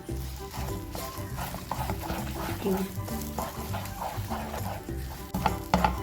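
Egg and beetroot are stirred together in a frying pan, with a steady scraping and stirring over a soft sizzle under continuous background music.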